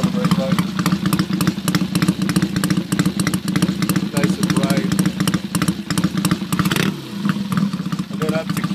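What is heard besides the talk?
Triumph T100 Bobber motorcycle engine idling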